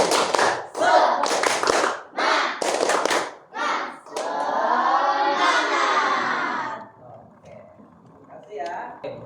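Primary schoolchildren in a classroom do a rhythmic spirit clap, a string of sharp, patterned hand-clap bursts mixed with chanting young voices, followed by a longer sustained group shout before a quieter tail.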